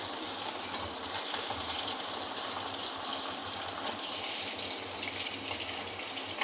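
A whole egg frying in a pan until browned, giving a steady, fairly quiet sizzle and crackle that runs unbroken throughout.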